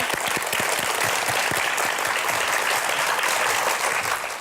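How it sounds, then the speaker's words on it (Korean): Studio audience applause welcoming a company CEO onto a Korean talk show stage, a steady dense wash of clapping that holds at full strength throughout. "큰 박수로 맞아주세요"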